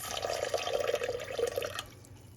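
Water pours steadily into a measuring cup for crock pot potato soup, a continuous splashing trickle close by that stops near the end, with no talking.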